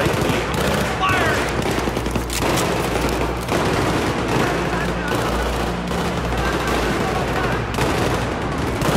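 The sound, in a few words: gunfire in video game Battlefield 3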